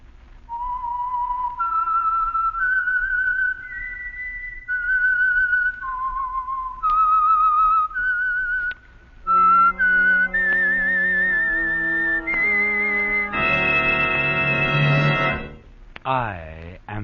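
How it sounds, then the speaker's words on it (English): A lone whistler carries a slow, wavering melody, then a sustained orchestral swell rises beneath and behind it, forming the theme of the Signal Oil radio drama The Whistler, a 1949 broadcast; closing with a brief brassy stab. "the signal to listen for is this whistle that identifies the Signal Oil program"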